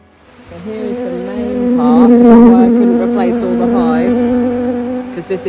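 Honeybees buzzing around an old hive, a close, steady droning hum that swells and wavers as insects circle, with a few faint extra sounds near the end.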